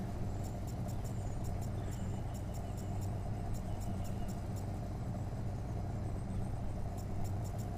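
Dodge SRT10 engine in the racing video game The Crew, a steady low rumble holding at an even pitch across the whole stretch, with faint high ticking from the game over it and no voices.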